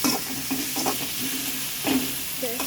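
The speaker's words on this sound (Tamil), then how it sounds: "நல்லா கிண்டி விட்டுக்கோங்க" Tomatoes being stirred in a frying pan for homemade kothu parotta, a steady close sizzle with repeated soft scraping strokes of the spatula.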